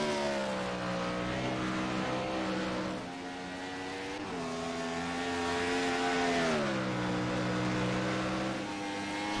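Race car engines on the Road Atlanta road course after the race, a loud sustained drone that rises and falls as the cars shift and pass, steady and close with no talk.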